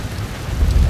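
Rain falls over Suganuma Village in the stealth game Shadow Tactics, a loud, dense wash of downpour with a low rumbling undertone that swells toward the end.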